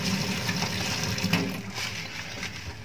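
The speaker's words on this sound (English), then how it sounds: "Turn off the faucet using new paper towel to grasp the hand-operated control." Water running from a faucet during handwashing before a sterile procedure, a steady broadband rush that stays constant and fairly quiet throughout, with no talking.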